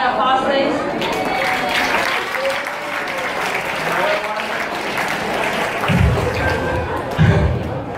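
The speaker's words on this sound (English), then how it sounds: "Give Yui an applause, please." Classroom audience applauding a student's climate action project presentation, steady sustained clapping filling the room with a couple of louder thumps near the end.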